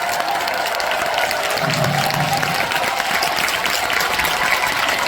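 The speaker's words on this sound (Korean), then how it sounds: "박수 함성 부탁드리겠습니다." A forum crowd at a leadership event applauds and cheers, giving a dense, continuous wash of clapping that holds steady throughout at a strong level, with no clear speech over it.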